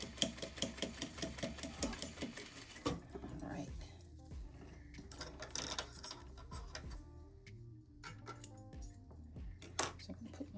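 Sewing machine stitching a zippered pouch, bursts of rapid mechanical needle ticking that stop and start, with handling clicks and rustles of fabric between runs.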